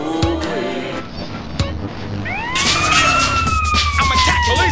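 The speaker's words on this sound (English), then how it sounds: "Police vehicle coming through" Police siren in GTA San Andreas wailing and rising in pitch partway through, loud and close over game noise and a low engine rumble, with a short voice line heard earlier.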